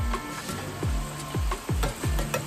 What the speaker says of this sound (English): while those little balls of meat are sizzling away